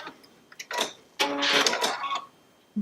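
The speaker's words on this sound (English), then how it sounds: "Then I'm going to cut my thread." Baby Lock Solaris 2 sewing machine running its automatic thread cutter: a few light clicks, then a close mechanical whirring burst of about a second with motor tones, ending in a soft click.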